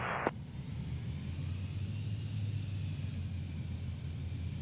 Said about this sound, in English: So go ahead and give it throttle.